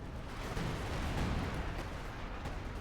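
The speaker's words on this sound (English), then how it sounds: "Medic's attack is being demolished under the weight of Apdo's counterattack and artillery" Dense, rumbling artillery barrage in a Company of Heroes 2 match, continuous low booming blasts blended into a heavy roar, with no talking.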